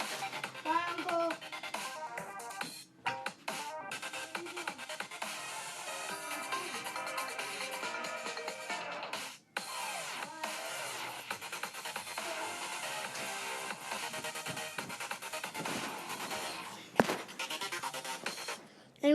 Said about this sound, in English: it's a pretty good ringtone once you listen to it